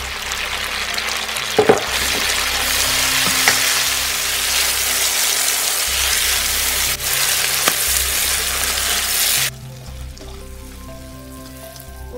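Sichuan twice-cooked pork belly with spring onion, pepper and doubanjiang stir-frying in a hot wok, a loud continuous sizzle with a few clanks of the spatula, cutting off sharply to a quieter hum near the end.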